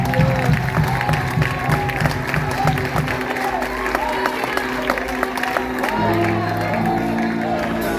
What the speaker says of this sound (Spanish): Dale ese aplauso con vida a Jesús.